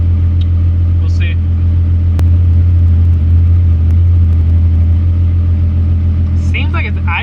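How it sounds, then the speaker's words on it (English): A Volkswagen Mk2 with a swapped-in VR6 engine idles steadily, a loud, constant low rumble close by, with brief faint voices at the start and end. "Seems like it's idling different."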